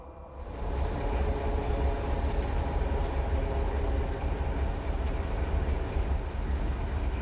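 Freight train locomotives in Run 8 Train Simulator, a steady loud rumble of diesel engines and rolling rail cars that rises after a quiet first half second and holds constant throughout.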